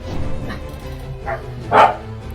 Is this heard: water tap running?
no